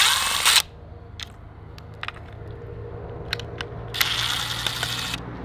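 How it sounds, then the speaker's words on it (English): A power screwdriver spinning out T20 screws from a Lexus LS430 front door speaker, two short high whirring bursts at the start and end with small clicks and handling noises between. "I'm going to take each one of these screws out."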